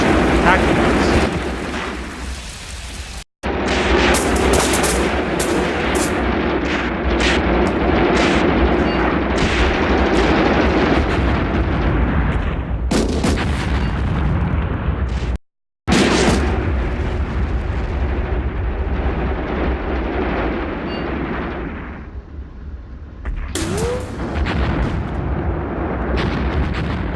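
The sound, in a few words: artillery shells falling and exploding in the tank warfare video game Graviteam Tactics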